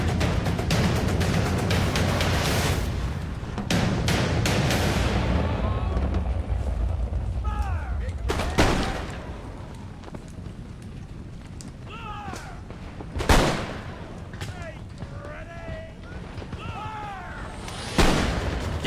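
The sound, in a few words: musket volleys from lines of infantry, Battle of Monmouth video game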